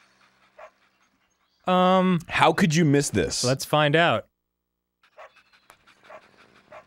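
A cartoonish stick-figure dog pants in The Wacky World of Miniature Golf, soft rhythmic breaths heard faintly before and after a burst of close talk.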